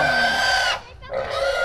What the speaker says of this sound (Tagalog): Ito na naman ngayon yung baboy ang kakatayin namin ngayon.